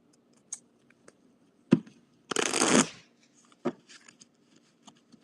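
Close, crisp tarot card shuffling: a few light taps and slaps, then a quick riffling burst, followed by scattered soft clicks of cards being handled.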